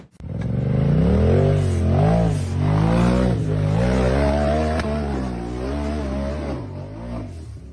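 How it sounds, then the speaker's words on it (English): Off-road buggy engine revving hard and continuously as it claws up a steep stepped rock face, loud and close with rising and falling pitch and some clatter. "The turquoise buggy accelerated hard up a steep stepped rock face."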